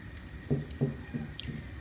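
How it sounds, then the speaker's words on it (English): Thick enchilada sauce is poured over a quinoa mixture in a baking dish, making soft wet squishes and splats in several uneven bursts close to the microphone. "we are going to pour the enchilada sauce over the quinoa mixture."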